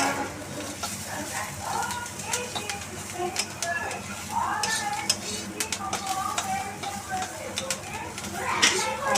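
Chopped green chilies sizzle in butter in a pan for egg mayonnaise, with steady frying hiss, repeated spatula stirring and scraping, and faint birdsong in the background.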